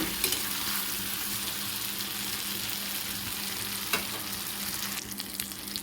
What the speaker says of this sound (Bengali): এই পোস্তটা একদম ভাজা ভাজা করবো, ওই জন্য তেলটা একটু বেশি পরিমাণে দিয়েছি।